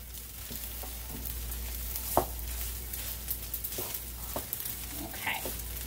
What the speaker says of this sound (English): we're going to go ahead and give that another stir